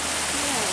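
Twin Creek Falls in the Smoky Mountains sends up a steady, dense roar of rushing water, a broad continuous hiss with a voice faintly audible over it.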